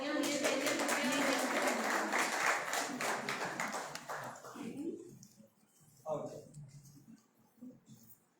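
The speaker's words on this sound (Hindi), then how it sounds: "जोरदार तालियां होनी चाहिए" Applause from an audience at a prize distribution ceremony: dense, steady clapping for about five seconds that then fades, with a voice talking over and after it.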